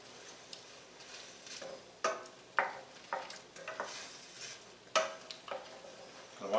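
Onions being stirred in a frying pan for chicken curry with Granny Smith apples: a soft sizzle under scattered utensil scrapes and knocks against the pan, close by, with no talking.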